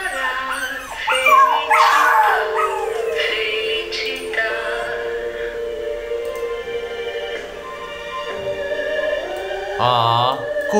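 A newborn pug puppy whines and whimpers in high, wavering cries that rise and fall, fairly close and clear, with a brief louder yelp near the end.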